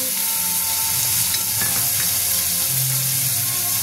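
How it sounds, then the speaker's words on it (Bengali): Shrimp frying in hot mustard oil with turmeric in a kadai, a loud, dense, unbroken sizzle with faint stirring scrapes underneath, close up and with no voices. "কড়াতে সরষের তেল দিয়ে দিলাম, দিয়ে দিলাম একটু ভেজে দিচ্ছি, আমি একটু হলুদ দিয়ে দিলাম"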